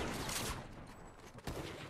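A burst of rapid gunshots crackles in Fortnite, with a second sharp volley near the end, fairly quiet overall.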